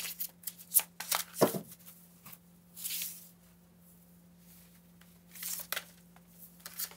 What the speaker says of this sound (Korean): 나는 나 자신에 대해서 어떻게 생각하고 있는지 카드를 2장 뽑아보겠습니다